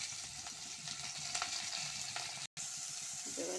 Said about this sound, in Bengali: দেখো তেলের উপর পটলটাকে দিয়ে দিয়েছি